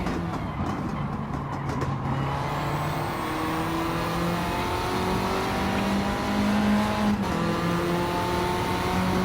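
Race car engines in Gran Turismo 7 at Laguna Seca whine and rev continuously, the pitch climbing and dropping through gear changes, with several cars roaring close together and no talking.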